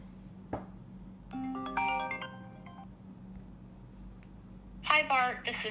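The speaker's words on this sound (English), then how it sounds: "I'm just going to trigger a phone call from my make.com. Let me put my phone on loud so you can actually hear it as well." An incoming call rings through a phone set to loudspeaker, with a short ringtone melody sounding twice between faint background noise and a brief click.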